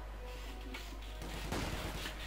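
Grenade barrage explosions in the wartime strategy game Company of Heroes 2 rumble as distant booms and crackling gunfire within a constant low battle din, with heavier blasts building toward the end.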